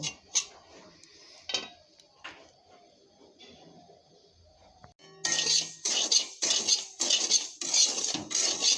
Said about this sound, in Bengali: আমি এখন সুজিটাকে নাল করে ভেজে নিব